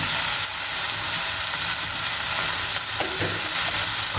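Sliced eggplant frying in a pan alongside salted hilsa, with a steady close hiss of sizzling oil and a few soft stirring sounds toward the end.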